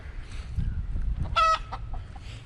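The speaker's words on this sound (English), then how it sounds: "Got a couple of chickens hanging out in here." Chickens in a backyard coop give soft, low clucks at close range, with one brief sharper squawk in the middle, against a quiet outdoor background.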